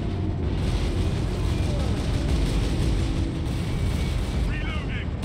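Dense battle din from Warhammer 40k Space Marine, with steady rumbling explosions and gunfire filling the whole stretch at constant loudness, plus a few brief high whines near the end; no talking.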